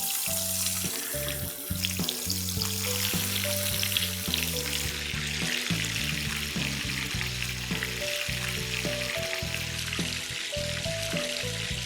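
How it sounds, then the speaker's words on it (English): Continuous sizzling and crackling of chicken salami roll-ups frying in hot oil, with soft background music playing underneath. "Let's start with frying the roll-ups."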